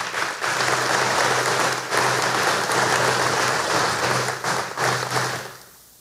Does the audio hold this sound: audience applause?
yes